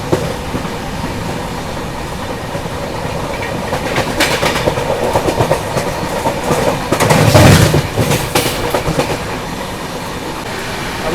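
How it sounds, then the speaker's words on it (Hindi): The Dibrugarh Rajdhani Express, hauled by a diesel locomotive, runs through Dhupguri station without stopping, with loud, steady clickety-clack from on board and a swelling rush and rattle over points midway. "अभी देखो अपनी ट्रेन स्किप कर रही है धूपगुड़ी रेलवे स्टेशन"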